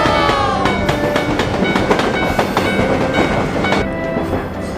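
A train rumbles past close by with rhythmic wheel clatter and screeching metallic squeals, loud and continuous throughout.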